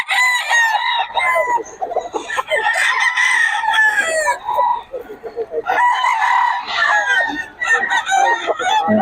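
Banded early bird gamefowl roosters at a seller's place crow repeatedly in overlapping calls close by, mixed with clucking and brief voices in the background.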